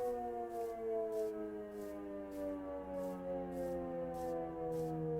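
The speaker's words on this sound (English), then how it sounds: "And we have sirens." Tornado warning siren in the Minecraft video game, a steady wailing drone with layered tones that slowly fall in pitch, under a faint regular pulsing, continuous and loud with no talking.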